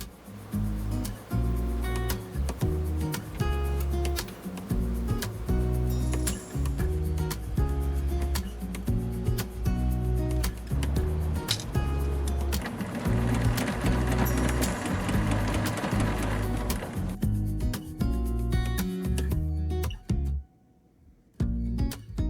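A serger stitches the gathered edge of a cotton apron, its rapid steady mechanical whir running continuously up close for most of the stretch before stopping briefly near the end.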